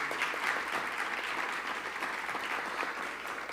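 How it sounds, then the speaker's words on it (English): An audience at a faith and genomic research event claps in a sustained, even round of applause, dense and moderately loud throughout, with no speech over it. "Let's give them a big round of applause."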